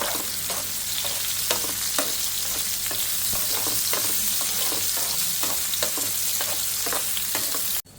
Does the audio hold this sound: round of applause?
no